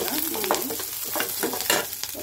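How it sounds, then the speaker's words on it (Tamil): Curry leaves, chana dal and mustard seeds frying in hot oil for upma, giving a steady close sizzle with crackling pops and spoon-stirring scrapes throughout, no voices. "கறி லீவ்ஸ் கடலைப்பருப்பு அந்த மஸ்டர்ட் சீட்ஸ் எல்லாமே போட்டு ஃப்ரை பண்ணும்போது ஆயிலில் நல்ல ஸ்மெல் வருது"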